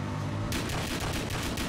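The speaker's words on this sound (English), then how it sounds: "alright, so this is my double barrel." Double barrel shotgun fire in the video game Battlefield Hardline, with dense repeated gunfire blasts in quick succession after a brief low rumble, loud and close throughout.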